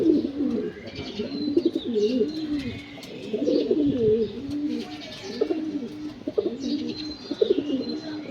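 Domestic pigeons in a home loft coo steadily and continuously, layered low warbling calls close by with faint chirps and rustling in the background.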